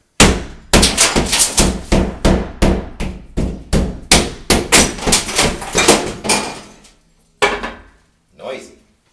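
Hammer blows knocking out the sheetrock corner beside a bathtub during a bathtub replacement, about twenty loud close impacts in a steady rapid rhythm, then a pause and two separate heavy knocks near the end.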